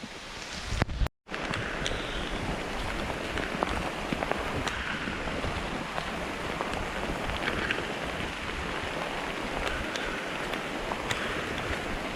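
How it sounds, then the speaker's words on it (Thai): Rain falls in a forest as a dense, even hiss of drops that holds steady throughout, apart from one brief cut near the start. "ตอนนี้ฝนก็ได้ตกลงมานะครับ"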